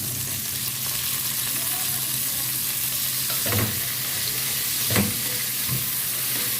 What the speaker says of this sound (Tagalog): Ilagay natin ang kamatis. I-add natin ang sitaw.